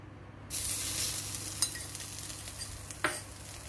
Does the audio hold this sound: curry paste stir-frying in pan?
yes